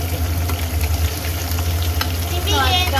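Onions and green chilies fry in oil in a pan for raw-mango chitranna, giving a loud, continuous close sizzle over a low steady hum.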